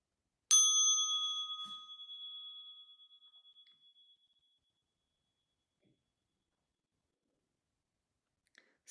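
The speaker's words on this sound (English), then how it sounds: "I'll invite the bell." A single meditation bell struck once, a clear pure tone that rings out and fades slowly over several seconds into silence, with a faint click afterward.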